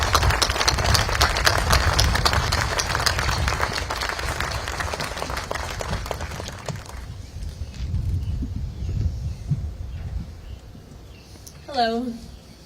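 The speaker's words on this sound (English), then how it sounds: "Please welcome them with a round of applause." An audience at a memorial event breaks into sustained, dense applause for family members, loud and continuous for several seconds before fading into a quieter room with scattered claps and a brief voice.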